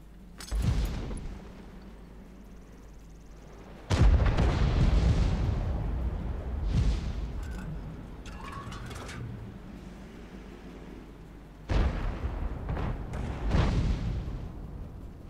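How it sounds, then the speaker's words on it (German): Heavy tank-gun booms from World of Tanks, fired by the G.W. Tiger (P) artillery vehicle, go off about five times at uneven intervals, each a loud blast followed by a rumbling decay. "Und hier der Schuss, oh, 465, der ist schon ordentlich"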